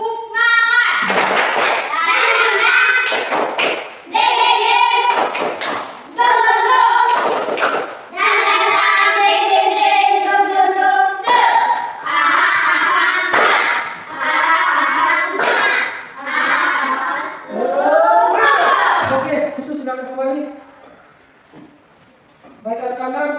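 Classroom children perform a rhythmic group clapping chant as a warm-up game, sharp bursts of hand claps alternating with shouted young voices, loud and close, with a teacher's voice leading.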